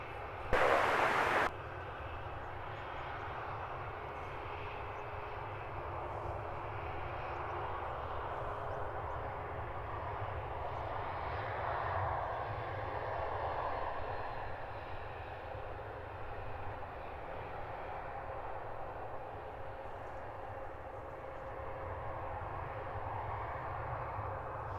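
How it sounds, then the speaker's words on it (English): Wizz Air airliner in special tail livery pushing back for departure at London Luton Airport, a steady broad jet engine roar holding throughout at moderate distance, with a brief louder burst at the start. "Our special liveried Wizz Air with the livery just on the tail that we saw coming earlier is pushed back for departure to Vienna."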